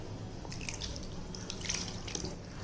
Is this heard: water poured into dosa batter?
yes